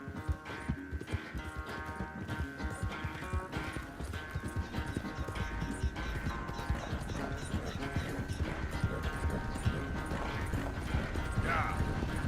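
Horse hooves clip-clopping in Red Dead Redemption 2, a steady rhythmic stream of close hoofbeats with a brief whinny and tack noise, running under dialogue.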